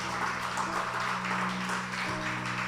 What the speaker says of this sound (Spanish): Si puede aplaudir al Señor, hágalo con gozo.